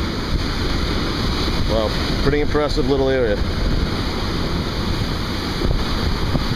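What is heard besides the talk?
ocean waves rolling and crashing on rock formations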